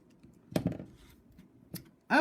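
A wire tail is trimmed off a wire-woven pendant, giving two short, sharp clicks about a second apart over faint background noise, with a voice starting at the very end.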